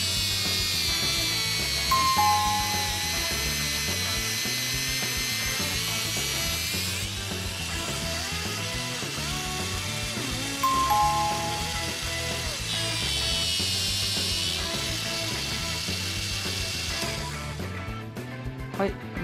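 A Mini 4WD barrel tire being cut with a small rotary power tool to make two-tone tires, a steady buzzing whine that shifts pitch as the cut proceeds, with a couple of brief scraping bursts.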